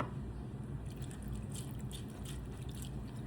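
Water is poured into a glass of loaded blue tea, giving a short run of light trickling and dripping sounds over a few seconds, close by and fairly soft, with no speech.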